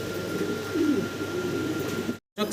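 Fancy pigeons in a loft giving a soft, low cooing murmur under steady background noise, cut by a brief silence near the end.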